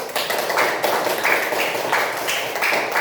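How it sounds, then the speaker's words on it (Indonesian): Schoolchildren in a classroom applaud with continuous, fairly loud clapping that holds steady for a few seconds, with faint voices underneath. "tepuk tangan"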